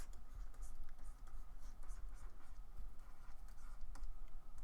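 Fast pen sketching on a surface gives a steady scratchy stroking texture with small clicks, close and continuous, without talk.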